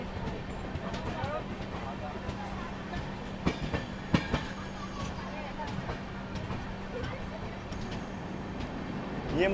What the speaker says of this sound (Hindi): ये मुझे अजमेर सियालदह एक्सप्रेस लग रही है।